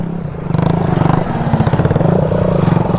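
A Bajaj CT 100 motorcycle revs close by during wheelie stunt training, its engine pulsing in a steady, rapid throb that rises after a brief quieter start and holds loud throughout.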